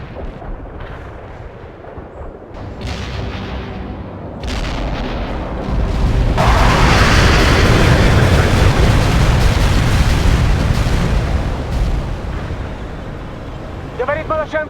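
A heavy artillery barrage in the World in Conflict video game. Deep booms and a swelling roar of shellfire build into a loud, sustained rumble, with faint radio chatter and chirps around it.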